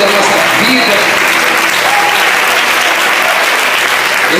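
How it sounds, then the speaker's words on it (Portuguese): A church congregation claps loudly and continuously, a dense wash of applause with a voice speaking over it in Portuguese. "Põe as suas palmas para Jesus. Isso, bem forte para o eterno Deus da nossa vida."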